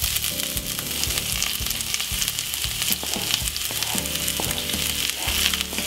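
Spring onion, white onion, fresh garlic and fresh thyme frying in a hot pot, a loud, steady, close sizzle and crackle with occasional small pops throughout.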